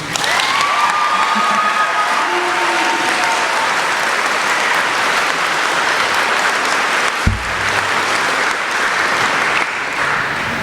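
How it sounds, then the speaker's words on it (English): Graduation crowd at a junior-senior high school ceremony applauds loudly and continuously, with cheering and shouts mixed in throughout a large hall. "Let's just all please give them our acknowledgement and a round of applause."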